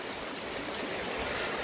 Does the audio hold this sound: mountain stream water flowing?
yes